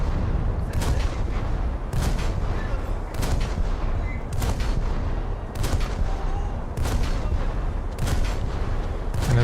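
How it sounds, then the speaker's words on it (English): A boat's rear gun fires over and over in a naval combat game, heavy cannon blasts about once a second amid a constant roar of engine and battle noise, loud and unbroken. "My rear gun is hitting the mountain"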